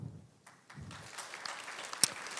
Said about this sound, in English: Please have a big applause.